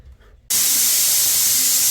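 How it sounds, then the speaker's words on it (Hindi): A pressure cooker lets out its whistle: after a brief quiet moment, a loud, steady, high-pitched jet of hissing steam bursts in abruptly and keeps going without a break. "कुकर ने सीटी दे दी भाई।"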